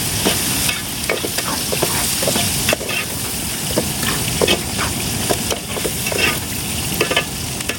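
Onions, about 200 grams, frying in a pan for a fish and tamarind-leaf curry, with a steady loud sizzle and repeated stirring scrapes throughout, no talking.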